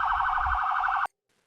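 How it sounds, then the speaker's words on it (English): A police car siren sound effect blares as a loud, steady high electronic tone for about a second, then cuts off abruptly into silence. "A police car. Wee-woo! Wee-woo!"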